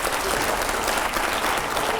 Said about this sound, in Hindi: पहले तालियां तो हो जोरदार।